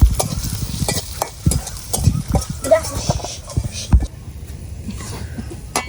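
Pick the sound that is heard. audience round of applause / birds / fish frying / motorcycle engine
fish frying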